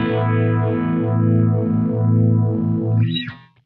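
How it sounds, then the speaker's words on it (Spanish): Electric guitar through compressor and phaser pedals, a sustained chord with a slow, sweeping phaser whoosh cycling repeatedly, fading out at the end. "Escucha ahora compresor y el phaser."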